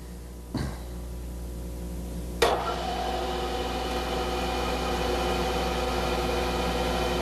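Lathe spinning in second gear of its direct drive at about 1115 RPM to turn a workpiece, a steady machine hum that starts abruptly with a knock and runs on evenly, close and fairly loud, with no talking.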